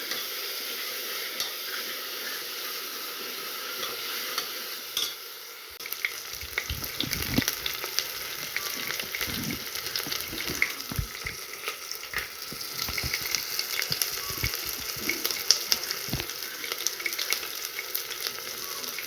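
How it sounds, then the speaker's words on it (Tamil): Ginger garlic paste sautés in hot oil in a pan, a loud continuous sizzle and crackle lasting throughout, with frequent stirring scrapes and spatters heard up close and no voices. "நல்லா இஞ்சி பூண்டு பேஸ்ட்டை நல்லா எண்ணெயிலேயே அப்படியே வதக்கி விட்டுக்கலாம்"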